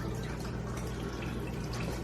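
Six cups of water pour into a cooking pot that held ragu, a steady rushing, splashing stream that stays loud and close throughout.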